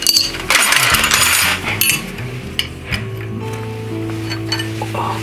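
Double nuts being fitted onto the seat bolt of a 1953 Panhead motorcycle, with a run of metallic clinks and taps from the small parts, close by, settling into a quieter background hum.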